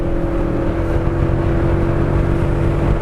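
A Mercedes GLE63 AMG engine pulls hard on a race track, its loud, steady droning roar holding an even pitch throughout with no voices over it.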